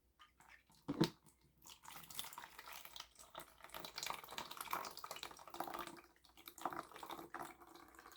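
Liquid drains from canned fruit for an ambrosia fruit salad, a faint, uneven trickle and splash with a brief knock near the start, continuing throughout.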